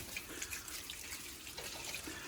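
Water runs steadily from a tap or hose into pig feed to wet it, a constant splashing hiss at moderate volume with no talking.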